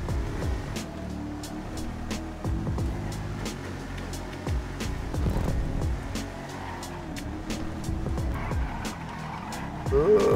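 Cognoscenti limousine in GTA 5 roaring and accelerating hard, with a loud, steady engine and repeated tire screeches and skids layered on top.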